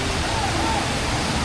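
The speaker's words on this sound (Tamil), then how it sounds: "சத்தம் கேட்குதா? ரொம்ப கம்மியாக இருக்குது தண்ணி." Steady rushing flow of water at Kallanai Dam, the ancient working dam, running low despite rain. It forms a continuous broadband wash that fills the whole short stretch, with a faint voice just audible over it.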